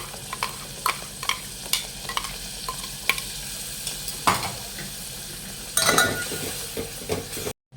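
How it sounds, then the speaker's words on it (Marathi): Curry leaves frying in hot oil for amti, a steady sizzle with scattered clinks of a spoon against the pan and a sudden louder crackle burst as the leaves hit the oil. "आता कढीपत्ता टाकून घेऊया"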